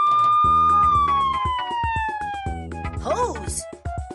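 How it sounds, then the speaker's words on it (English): A cartoon fire truck siren in a Dora the Explorer video game wails with a falling electronic tone over rhythmic game beats. A brief chirpy sound effect follows near the end. "Siren."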